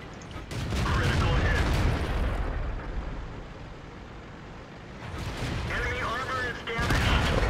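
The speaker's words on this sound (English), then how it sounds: "I'm shooting prem shells right now just because I'm just trying to do as much damage as I can" A Panzer V Panther tank in World of Tanks fires premium shells: loud, booming cannon blasts and rumbling battle noise come in bursts, with a lull in the middle, close and heavy.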